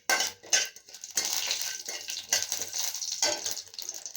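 Cumin seeds and small lentils sizzling and frying in hot oil in a pan, a steady crackling hiss punctuated by clinking of a utensil against the pan, heard close up with no talking.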